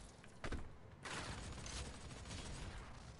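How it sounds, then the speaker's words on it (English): Gunfire in the Doom beta video game, a dense continuous barrage of shots after a brief burst near the start, loud and steady throughout with no voice over it. "Oh, the gunshots happen."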